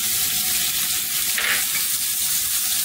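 Onion sizzles in hot oil with geera (cumin), a loud, dense, steady frying hiss close up with no voices.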